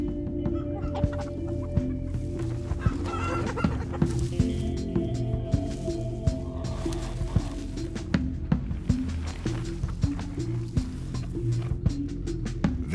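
Chickens cluck and fuss inside a chicken coop at a southern African farm, a steady busy chorus of short calls close by with no talk.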